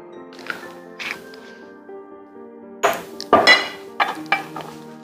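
A dressing of salt, black pepper and maple syrup being shaken or whisked in its container, giving scattered ringing clinks and taps, quiet at first and then a louder cluster of knocks.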